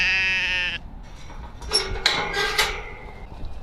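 Blue Texel sheep on a farm give a clear bleat at the start, followed by a few more overlapping bleats from the flock at moderate distance.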